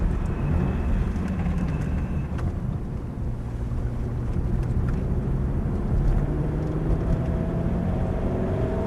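A car accelerates along the straight at the Prodrive track, its engine pitch climbing through the gears under a constant rush of wind noise, loud and continuous.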